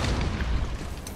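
A detonated charge explodes in Rainbow Six Siege, a loud, dense, booming blast that fills the short moment without pause.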